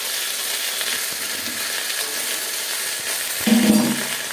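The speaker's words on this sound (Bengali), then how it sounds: "এবার আমরা আদাটা দিয়ে দেবো" Ginger drops into onions already frying in hot oil: a soft, steady sizzle, then a brief louder hiss and clatter as it goes in, with no voices.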